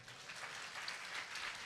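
A church congregation at a Sunday service clapping their hands, a faint, distant, even patter of many hands applauding without pause.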